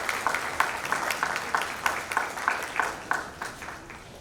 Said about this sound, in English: Let's give them a welcoming round of applause as they come forward.